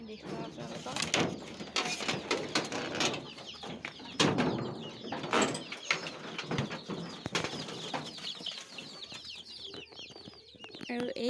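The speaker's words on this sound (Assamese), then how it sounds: "মই মোৰ চৰাইকেইটাক দানা পানীখিনি দি যাওঁ" Pet birds cluck, chirp and flutter their wings almost constantly while they are given grain and water, making a busy, close chorus of overlapping calls across the whole stretch.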